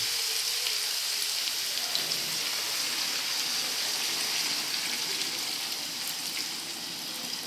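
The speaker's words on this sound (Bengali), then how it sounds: "মাছের চারিদিকে জলটা হালকা করে সাইড দিয়ে চারিদিকে দিয়ে দিতে হবে" Water poured gently around small fish in a cooking pan makes a steady, even hiss and patter, close and constant throughout, with no talking.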